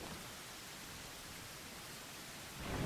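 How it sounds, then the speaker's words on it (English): Heavy rain in the video game Dark Souls 2, a dense steady hiss of downpour that swells louder at the very end, with no talking. "Man, it is raining hard."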